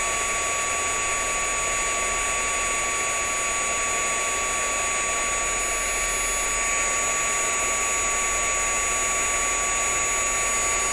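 A heat tool running on high blows steadily over embossing powder on chipboard, a constant loud whirring roar with a fixed whine and no variation throughout.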